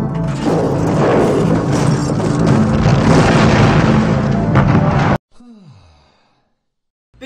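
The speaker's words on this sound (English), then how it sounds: "they just kinda coast down the street until they catch on fire and explode" Film explosion from the 1987 horror movie Near Dark as a coasting vehicle catches fire: a loud, sustained roaring rumble lasting about five seconds, cut off abruptly, then followed by a falling whoosh.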